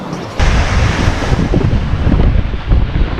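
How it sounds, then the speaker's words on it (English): Strong wind buffets the microphone in rumbling gusts, with a broad rushing noise that stays loud and continuous. "I don't know if you can hear this wind"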